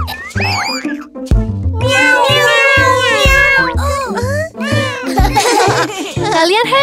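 A cartoon cat in a children's program meows again and again in bright, sing-song calls, layered with a child-like voice and music in a busy, loud mix.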